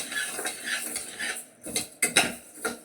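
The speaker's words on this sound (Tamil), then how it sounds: "எல்லாமே வந்து நல்லா லோ ஃப்ளேம்லேயே வச்சு வறுத்துக்கோங்க" Chana dal being dry-roasted in a pan on a low flame, with soft rustling of the lentils and a few sharp metallic scrapes and clinks from a spoon stirring, close by and without speech.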